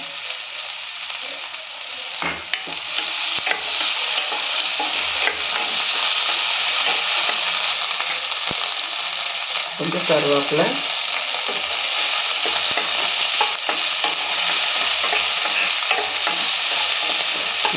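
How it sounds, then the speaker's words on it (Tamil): Onions sauté and sizzle in hot oil in a pan for poori masala with chilli and ginger, with steady frying hiss and scraping stirs throughout and brief speech partway. "இப்போ கொஞ்சம் உப்பு போட்டுக்கோங்க வெங்காயம் வதங்கிடும் சீக்கிரம்"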